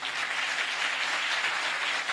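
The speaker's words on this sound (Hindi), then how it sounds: "आओ हम इन अजीम हस्तियों के लिए जोरदार तालियां बजाएं।" Congregation clapping during a church sermon, an even, continuous burst of many hands at moderate volume, without voices over it.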